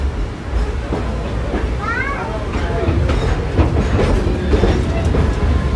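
The Dollywood Express, steam locomotive Engine 70, rolls along with a steady rumble and rhythmic clickety-clack of wheels on rail, heard from aboard the train under ongoing talk and passenger chatter.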